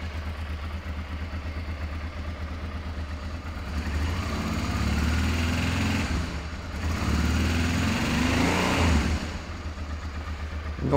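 A cold 1989 Honda Transalp motorcycle engine idling steadily and close by, a continuous low rumble that swells slightly louder partway through with no talk over it.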